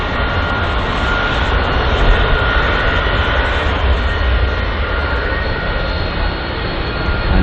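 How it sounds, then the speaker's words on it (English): American Airlines Boeing 777 landing on runway 27R at London Heathrow, a loud, steady jet engine roar with a broad rushing whine that stays strong and even for several seconds. "the American Airlines Boeing 777 there arriving at runway 27 right"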